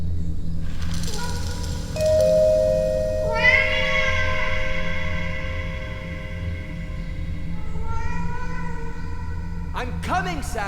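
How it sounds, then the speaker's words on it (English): A cat in the Alfred Hitchcock Vertigo video game meows repeatedly as it begs for food, with long drawn-out cries over a steady low background hum. "Your cat interrupts you, begging for food"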